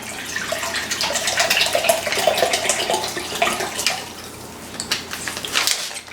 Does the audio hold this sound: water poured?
yes